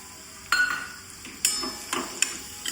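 Onions frying in ghee are stirred in a pan for green turmeric curry, with a few distinct spoon scrapes and taps over a faint sizzle. The sound is fairly quiet and has no talking.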